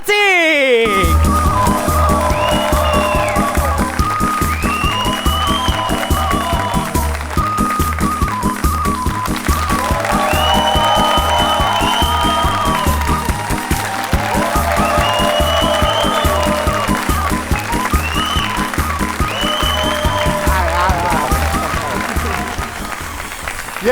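A studio audience applauds performers on the stage of an Armenian TV club show. The clapping runs steadily under loud rhythmic music while a host speaks.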